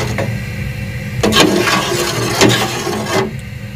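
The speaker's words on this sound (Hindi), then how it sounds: "1 kg हमारे पास राइस है तो इसमें 1 जग यखनी का हम ऐड करेंगे।" Homemade beef yakhni broth poured from a jug into a rice pot for pulao, a steady close splashing and gushing of liquid with a few louder surges, no talking.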